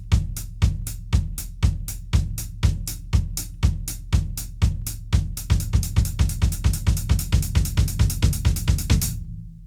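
Steady drum kit pattern alternating left-hand strokes with right-foot bass drum kicks, even and evenly spaced, close and clear with no talking; the hits speed up slightly into a denser run before stopping abruptly.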